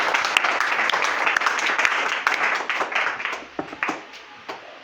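Church congregation applauding during a worship service, a broad wash of many hands clapping that holds steady, then breaks into scattered claps and fades out.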